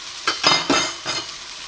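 Hamburger buns toast in a frying pan, giving several short bursts of sizzling and scraping at close range that rise and fade over a quiet pan hiss.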